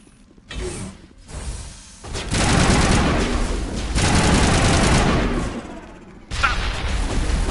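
Sustained gunfire crossfire in the video game Mass Effect, dense loud bursts of automatic fire running for several seconds with short gaps between volleys.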